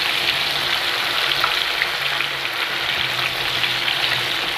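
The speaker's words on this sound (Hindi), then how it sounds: "फ़िश को फ्राई कर लूँगी। इसको आपने लो टू मीडियम आंच पे फ्राई करना है।" Fish frying in oil in a kadai over low to medium heat, a steady close hissing sizzle with faint crackles throughout and no talk.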